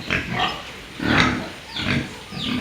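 Farm pigs in a pen grunt and squeal repeatedly in uneven bursts, close and fairly loud, with no talk over them.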